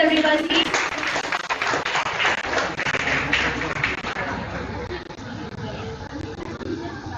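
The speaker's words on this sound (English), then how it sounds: "Please give a big round of applause, everybody." A seminar audience claps. The applause is scattered and continuous, with a murmur of voices underneath, and thins out toward the end.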